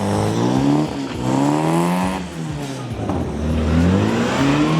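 A Mini car engine revs hard and repeatedly, pitch rising and dipping as it spins in circles on the handbrake, with brief tyre noise between surges.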